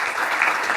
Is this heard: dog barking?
no